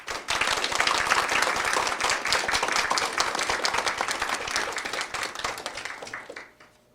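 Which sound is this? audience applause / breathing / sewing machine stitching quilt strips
audience applause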